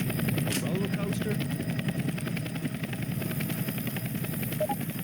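A helicopter in the Left 4 Dead Dark Carnival campaign thumps overhead with a rapid, steady rotor beat under gunfire clatter and voices.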